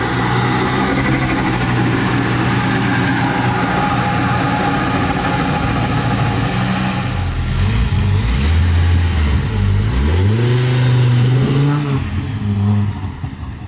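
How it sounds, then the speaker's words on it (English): An Audi RS engine swapped into a VW Caddy idles roughly on a cold start, then gets blipped through a few rising and falling revs, loud and close. "Just like that, a Caddy RS cold start"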